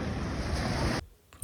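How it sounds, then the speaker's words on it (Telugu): Surf washing onto a beach in Tekkali at about five in the evening, a steady broadband roar with wind for a second before it drops away, then a fresh surge at the end. "చూడండి బీచ్ ఎంత బాగుందో."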